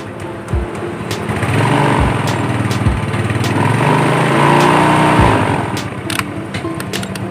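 A Yamaha Mio Sporty motorcycle engine runs at idle close by, a steady buzzing putter that rises slightly as the throttle is blipped, with faint clicks over it.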